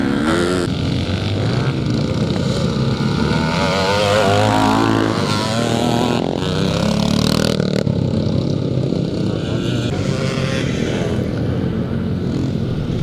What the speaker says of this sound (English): number 41 on the Rickman Triumph. Certainly one of the best sounding machines that you can listen to on